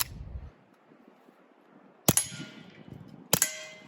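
Two sharp, quiet shots from a Smith & Wesson 22 compact pistol fitted with a Rugged Mustang suppressor, spaced over a second apart, each a short crack with a metallic ring, outdoors with no talking.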